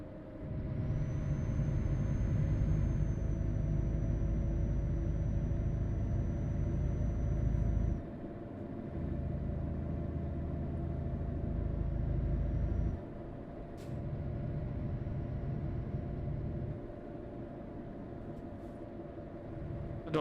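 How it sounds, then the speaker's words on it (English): A truck engine droning steadily while driving, a low continuous rumble with shifts in level as gears change, heard from inside the cab without talk. "This truck sounds like it's absolutely gutless."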